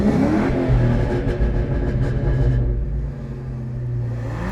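A car engine, from a Ford Mustang versus Mazda MX-5 Miata sound test, rumbles loudly with a rising rev and then settles into a lower steady drone, recorded close with no talking.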